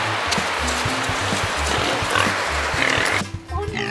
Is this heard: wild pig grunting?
yes